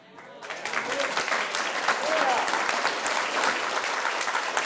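Sustained audience applause at an annexation task force public meeting, a steady wash of many hands clapping for several seconds without talk.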